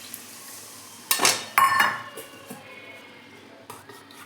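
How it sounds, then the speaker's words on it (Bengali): Water is poured into a cooking pot of curry with softened garlic and potato, giving two short splashing hisses with faint clinks before it settles to quiet simmering. "জল দিয়ে দিচ্ছি।"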